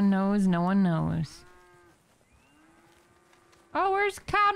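Cattle in Red Dead Redemption 2 give a loud, close, wavering moo, then after a quiet pause another short moo sounds, alone without talk.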